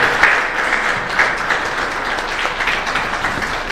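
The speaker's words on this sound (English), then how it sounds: "Let's please clap for them." Steady applause from an audience, a dense crowd of clapping hands holding an even level throughout.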